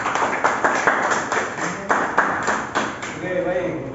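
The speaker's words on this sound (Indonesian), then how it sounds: "berikan tepuk tangan." Students in a vocational classroom clap for a group after its presentation: a scattered, uneven patter of claps with a few sharper slaps, close by and fairly loud, fading out near the end.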